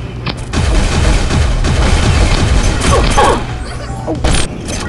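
Repeated bursts of weapon fire from the mini alien spaceship gun in the Pixel Gun 3D video game, with rapid pulsing shots over a steady mechanical hum through most of the stretch, loud and close.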